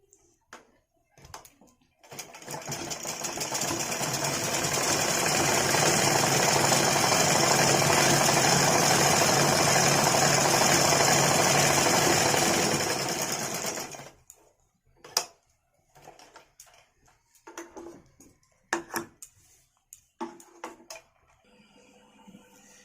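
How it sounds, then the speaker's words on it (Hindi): An electric sewing machine stitches a choli cut blouse in one continuous loud whirring run of about twelve seconds, followed by scattered clicks and handling of the fabric. "आप यहाँ ऊपर में चाप सिलाई मार दीजिए"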